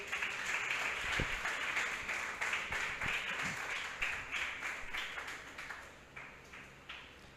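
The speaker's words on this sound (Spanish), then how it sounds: "Dale un fuerte aplauso a Dios." Steady applause from an audience, dense and continuous at first, then thinning toward the end with a few scattered claps.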